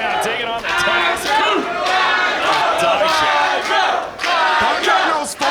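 Wrestling arena crowd cheering and chanting during a Fresh Blood match, loud rhythmic shouted chants rising and falling in waves, with brief dips between bursts.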